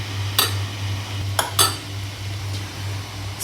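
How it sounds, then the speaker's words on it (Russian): Metal spoon clinks against a pot while skimming foam from simmering aspic broth, three or four short bright taps over a steady low kitchen hum. "Стою я, снимаю пену ложкой"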